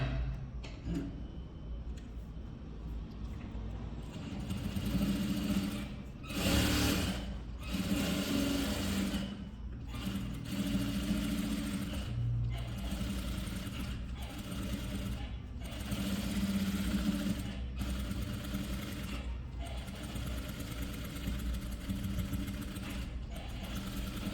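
Sewing machine stitching a blouse, a fast continuous mechanical whirring and ticking that runs steadily with a few brief pauses and restarts, close and fairly quiet, with no talking.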